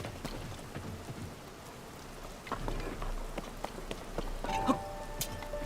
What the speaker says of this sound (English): why does it have to be raining?